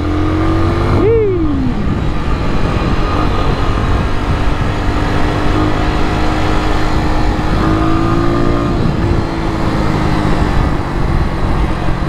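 A Kawasaki W175TR vintage trail motorcycle runs steadily on a test ride, its engine note loud and continuous, with a brief rev rise near the start and another later, under wind and road noise.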